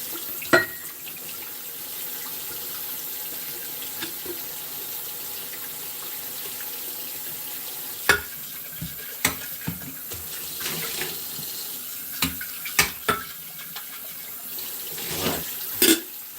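Tap water runs steadily into a kitchen sink while a dirty coffee pot is rinsed and washed, a continuous close splashing stream broken by occasional clinks and knocks of the pot.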